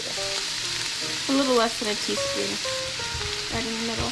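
Minced garlic sizzles and fries in a chicken sausage stir fry, with a steady hiss running underneath. A person talks over the cooking throughout.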